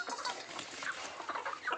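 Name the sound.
hens clucking on poultry farm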